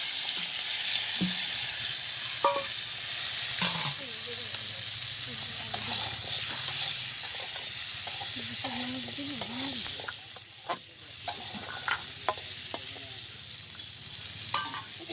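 Whole cumin, onion, garlic and green chilli fry in hot oil in a village kitchen, a steady close sizzle running throughout with scattered stirring clinks and scrapes, and no talking.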